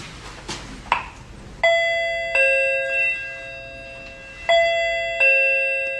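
A doorbell chimes four times in succession, each strike a bright, ringing tone with a sustained decay, following a couple of softer knocks or clicks at the start; no talking.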